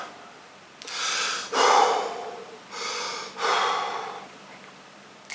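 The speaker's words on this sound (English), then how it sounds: "Take a couple breaths." A person takes two slow, deep breaths, each a long inhale followed by an audible exhale, close and clear in a quiet room.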